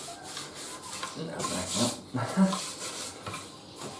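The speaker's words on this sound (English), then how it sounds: "I marked the ends, so I could then sand off the backs, removing anything that was there" Solid pine boards are sanded on their backs, giving a steady rubbing, scraping hiss in several close strokes with brief louder passes and no talking.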